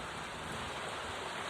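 Steady rain hisses during a storm in a video game, a quiet, even wash of falling water with no other distinct sounds.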